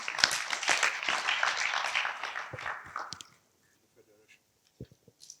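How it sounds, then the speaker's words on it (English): An audience applauds a student presenter at a summer school session, lively clapping from a modest group for about three seconds before it stops abruptly, leaving near silence with a few faint scattered noises. "Hand of applause for Regan"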